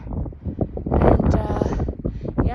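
Strong gusting wind on a mountain pass along the Pacific Crest Trail, buffeting and roaring against the microphone in uneven surges, with a person speaking briefly under the blustery noise.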